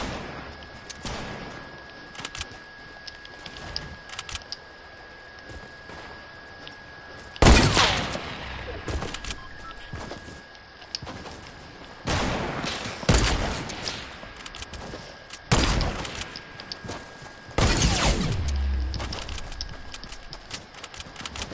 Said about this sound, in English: Everyone else has snipers, and I hear nothing but snipers.